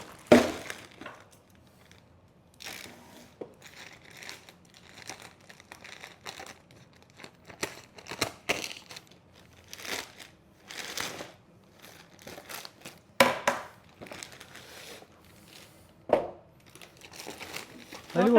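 A gift box is unboxed at home during Christmas tree decorating, with loud crinkling of wrapping and paper rustles in irregular bursts, close by, and a few clinks, while people talk quietly at times.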